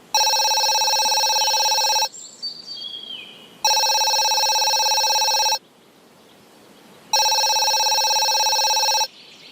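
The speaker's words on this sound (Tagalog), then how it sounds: "May tumatawag." Telephone ringing with an incoming call, loud and close, in three long rings of about two seconds each separated by quiet gaps, with no talking.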